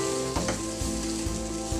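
Semolina (rava) sautéing in a pan for upma with vegetables, a steady, loud sizzle with rhythmic scraping strokes of a spoon every half second or so, close up and without talk.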